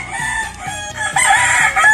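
A gamefowl rooster crows loudly and close by, one long strained call over a steady low rumble.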